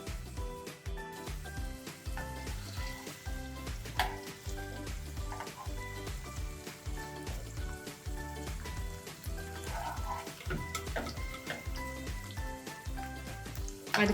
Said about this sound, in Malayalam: അടുത്തത് ഇതുപോലെ ഫ്രൈ ചെയ്തെടുക്കാം.